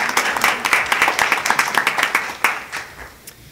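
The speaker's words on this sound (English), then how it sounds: "Give yourselves a round of applause." A conference audience applauds with dense, overlapping clapping that holds steady, then thins out and fades over a few seconds.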